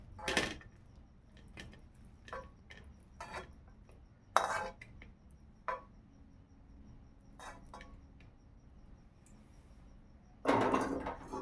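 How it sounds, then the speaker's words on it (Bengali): Chicken 65 is tipped from a pan onto a plate, bringing scattered clinks and scrapes of metal utensils against cookware and a sharp clatter near the end, quiet and intermittent, with no speech. "এবার একটা প্লেটে ঢেলে নেব।"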